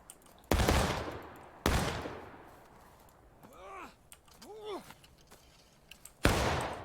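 Video game gunfire: three loud, sharp single shots spaced a few seconds apart, with a couple of quieter voiced sounds between them.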